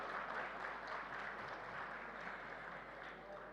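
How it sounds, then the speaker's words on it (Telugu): An audience at a Telugu movie pre-release event for Transfer Trimurthulu applauds, a dense, even wash of clapping that holds steady for several seconds and fades slightly at the end, heard from within the hall. "గట్టిగా ఒకసారి చప్పట్లతో స్వాగతం పలుకుదామా?"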